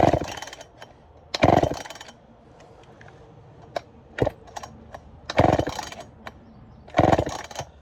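Someone tries to start an early Poulan 245A chainsaw. Four sharp bursts of pull-start and engine sputter come up close, separated by quieter rattles and clicks, and none of them catches into a sustained run.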